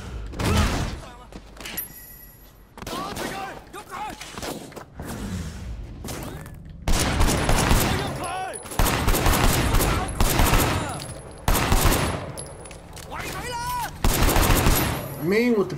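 Gunfire in the Sleeping Dogs video game, a dense run of loud, sharp pistol and automatic shots in repeated bursts across the whole stretch, with game voices talking between volleys.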